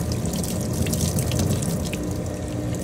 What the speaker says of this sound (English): We got warm water going, that way we can rinse it out